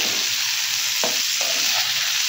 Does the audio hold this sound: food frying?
yes